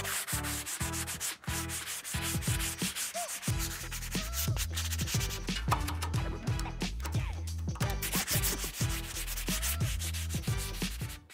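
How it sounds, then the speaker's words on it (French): An iron pergola being sanded before repainting, giving continuous close rhythmic rasping strokes that run loud and steady without talk. "Maintenant, on va passer à une opération qui demande évidemment un petit peu du temps, c'est tout le ponçage."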